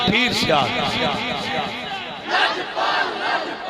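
Large crowd at an outdoor religious sermon in Chiniot chanting slogans in loud, rhythmic unison, with rising surges of massed voices.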